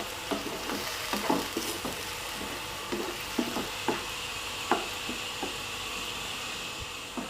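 Onion and tomato fry in oil for a cabbage kofta curry, a low steady sizzle broken by sharp stirring scrapes and taps of a spoon against the pan, close and fairly quiet, no talking.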